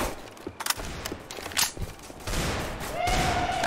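Rapid gunfire in Left 4 Dead 2, a close burst of sharp shots followed by a denser rattling volley and loud game noise, with no talking.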